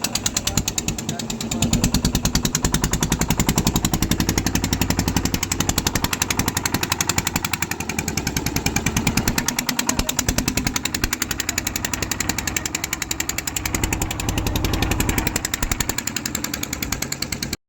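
A small fishing boat's motor starts and runs near Mousumi Island, a loud, steady rapid chugging that continues for the whole stretch.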